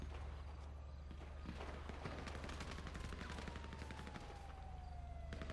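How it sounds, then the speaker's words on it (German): Gunfire crackles in GTA Online, with rapid shots packed densely over a constant low rumble and a falling whine, loud and continuous. "Ich schieße dir mal die Knarre aus der Hand"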